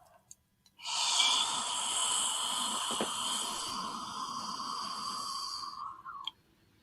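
A single long, hollow, open-mouthed breath rasps from the back of the throat, close and steady for several seconds before cutting off.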